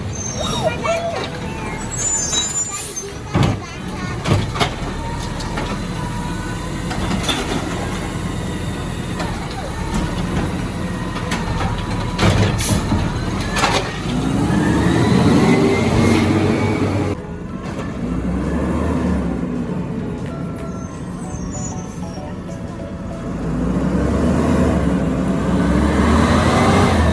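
A garbage truck drives along a street, its engine rumbling steadily and swelling as it rolls, while children talk and call out over the motor noise.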